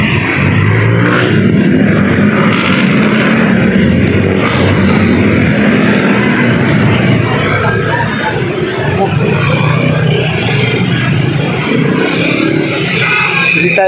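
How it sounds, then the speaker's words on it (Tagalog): Dense road traffic rumbles steadily throughout, a continuous loud wash of car and truck engines with people talking indistinctly underneath. "Traffic."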